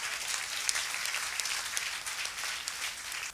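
A church congregation breaks into applause acclaiming Jesus, a dense crowd clapping that carries on steadily for a few seconds without speech on top.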